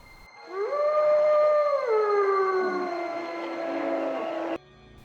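A single drawn-out wolf or dog howl swells quickly and holds at a steady pitch, then bends downward and fades before cutting off sharply. It is loud and near, with no voices present.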